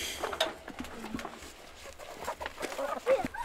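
Chickens cluck softly in a farmyard on a spring evening in northern Sweden, with scattered short calls and light pattering sounds at moderate distance, some birds already settled to roost.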